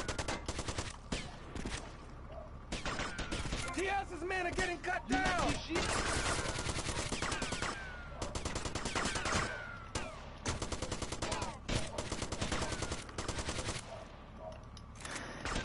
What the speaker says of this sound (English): Shooting on this game is a lot better.